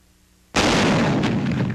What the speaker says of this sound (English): Combat testing the T-21, a 75mm recoilless rifle